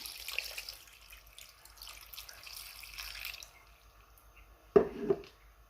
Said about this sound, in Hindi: इसके अंदर पानी डालेंगे इतना कि इसमें गोश्त गल जाए